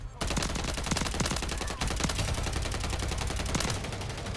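Striker weapon firing with a compensated flash hider in Call of Duty MW3, a loud continuous automatic burst of rapid shots that holds for several seconds with one brief break.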